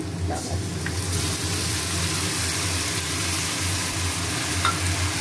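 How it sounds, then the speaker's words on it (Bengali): Potatoes fried with ginger, cumin, salt, turmeric and dried chillies in a pan give a dense, constant sizzle and crackle. Low rumbling and faint scraping are mixed in. "এবার মশলা দিয়ে ভালো করে কষাবো।"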